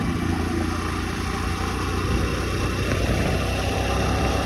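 A motorcycle engine runs steadily during a ride, a loud, close, constant rumble that stays unbroken throughout with no talking.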